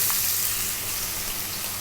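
Ginger and onion hit a hot pan on high heat, with star anise already in, for a spicy sweet Chinese fish; a steady, close sizzle of frying holds for under two seconds with no voices.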